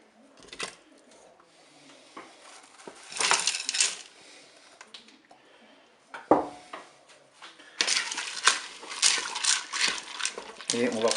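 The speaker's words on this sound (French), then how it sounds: "Allez, on va rajouter les pommes de terre et les petits pois." Potatoes and peas tumble into a Cookeo pot that holds cooked pork, in rattling, clattering bursts of varying loudness, with a louder stretch of pouring near the end.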